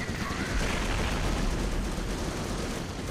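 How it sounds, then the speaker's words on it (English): Mortar and gunfire barrage in the World War II strategy game Company of Heroes 2, a dense continuous roar of overlapping blasts and shots with faint talk underneath. "I think they're mortaring us"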